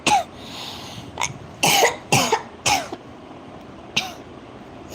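Several short, harsh coughs come in uneven bursts close by, with brief quiet gaps between them.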